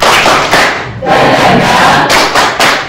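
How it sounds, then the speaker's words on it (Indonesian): A group performing the tepuk semangat clapping chant, loud and close, with dense overlapping voices chanting and sharp claps running throughout. "Tepuk semangat"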